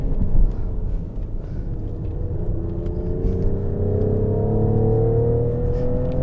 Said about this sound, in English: The exhaust burbles sound really good.